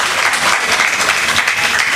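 Audience at a mushaira poetry gathering in Delhi breaks into dense, loud applause, a continuous burst of many hands clapping close by for a couple of seconds.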